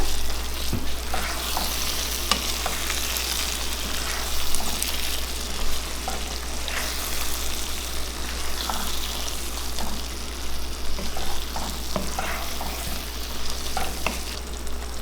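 Potato masala with garam masala and curry leaves frying and being stirred in a pan, giving a steady sizzle with scattered scrapes and clicks throughout, loud and close, no talking.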